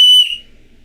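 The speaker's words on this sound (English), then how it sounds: "Then I got my whistle just laying here." A whistle gives one loud, piercing, steady blast lasting about a fifth of a second, then it cuts off and a faint low murmur remains.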